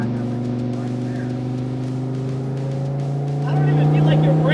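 A Dodge Viper's engine drones steadily from inside the cabin, swelling louder near the end, when crackling exhaust pops break out over the drone.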